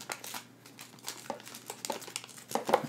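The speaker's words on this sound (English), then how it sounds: "now we're going to take the wings and we're going to fold them flat" Stiff paper wings of an origami dragonfly are folded flat, giving a close, steady run of crinkling and crisp creasing taps with a few sharper snaps near the end.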